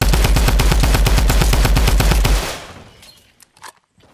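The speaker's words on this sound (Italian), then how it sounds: "Attenzione, ho sentito uno sparo da lontano." Rapid automatic gunfire in a multiplayer video game bursts loudly and steadily for about two seconds. Then it stops, leaving faint scattered shots and clicks.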